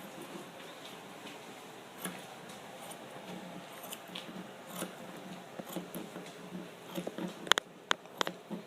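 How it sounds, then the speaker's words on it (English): Rounded grooming shears trim the hair on a dog's paw, making soft, quiet snips that sharpen into a few crisp, close clicks near the end. "we're just gonna take the rounded shears"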